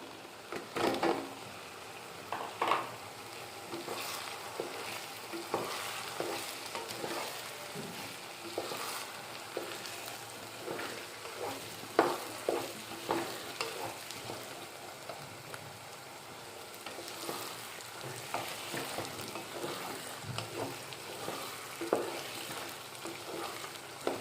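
Pieces of yam (pendalam) fry and are stirred in a pan for an Andhra-style mango curry, a steady close sizzle with repeated scraping strokes of the spatula throughout, no voices.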